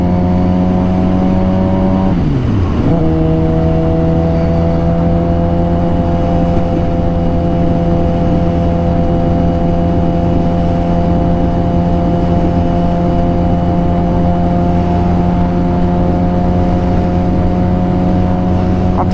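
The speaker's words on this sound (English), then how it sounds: "this exhaust is just, it's loud." A Suzuki GSX-R 750 sport motorcycle with a loud aftermarket exhaust while riding, holding a steady, buzzing drone that dips briefly as revs drop, then settles into a constant, loud, close engine note.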